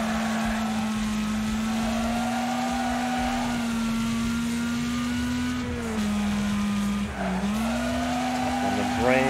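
Race car in a driving video game holds a steady engine whine, dips in pitch under hard braking around the middle, then climbs back up at full throttle, with faint voices layered underneath.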